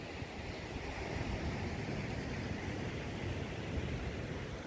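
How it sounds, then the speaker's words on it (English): Steady wash of lake waves rolling onto the shore beside a lighthouse, a continuous low rumbling surf with wind noise, moderately distant and with no voices. "Really eerie when you hear the waves."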